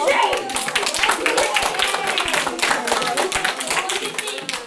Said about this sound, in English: Give him a applause.